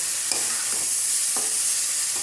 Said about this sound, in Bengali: নাড়াচাড়া দিয়ে এই ফ্রাই প্যানটা ধরে উলট পালট করে দেব।